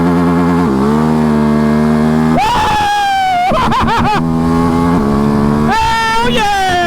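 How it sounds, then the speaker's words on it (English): A CanAm DS450 quad engine revving hard and bouncing off the rev limiter during power-shifted holeshots, loud and close with rising engine whine, rapid limiter stutter, and excited shouting over it. "Power shifting! Hit that rev limiter!"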